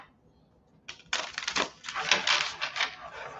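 Playing cards being shuffled close by, a burst of rapid riffling clicks that starts abruptly and runs in quick fluttering pulses for a couple of seconds.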